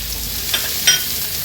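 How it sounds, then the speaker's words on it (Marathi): Finely chopped onion hits spluttering mustard seeds and cumin in hot oil, giving a steady moderate sizzle with a couple of brief crackles. It is close and has no talk. "राई आणि जिरं थोडं तडतडलं की आपण हा बारीक चिरलेला कांदा ॲड करणार आहोत"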